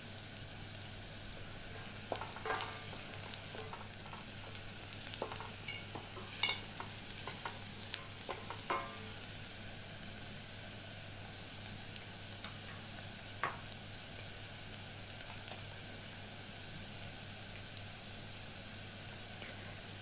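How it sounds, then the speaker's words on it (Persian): Onions frying in a pot as the base for Persian green bean stew with meat, a soft steady sizzle broken by scattered clicks and stirring scrapes. "خب بعد از اینکه یه مقداری پیازامون سبک شد 3 حب سی رو بهش اضافه میکنم"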